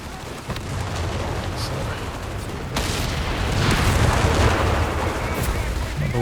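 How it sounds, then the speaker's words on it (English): A 105 howitzer's artillery explosions boom in a Company of Heroes 3 3v3 battle on the Summit map, a dense roaring wall of blasts with a sharper impact midway and no clear talking. "explosion was just blasting my ears a bit too much"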